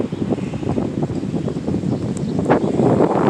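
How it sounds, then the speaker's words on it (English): Gusty wind buffeting the microphone, a loud continuous low rumble that swells and grows rougher toward the end. "Quite windy out here today."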